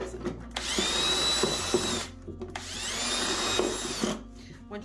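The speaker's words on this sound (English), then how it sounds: "I'm using a drill with a 1/4 inch bit" A power drill with a 1/4 inch bit bores into a plastic milk jug in two whining bursts of about a second and a half each, close and fairly loud, with quiet handling sounds between them.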